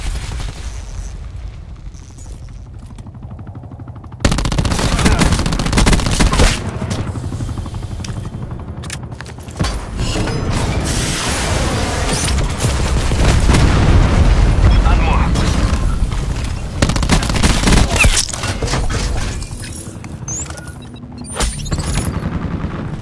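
Heavy gunfire and booming explosions in a Call of Duty match, including an enemy turret firing, with loud dense bursts that start abruptly and recur, and a voice speaking over them.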